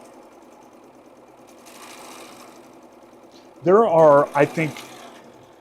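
Embroidery sewing machine stitching softly in the background with a fine steady whir, while people talk over it; a louder burst of speech arrives toward the end.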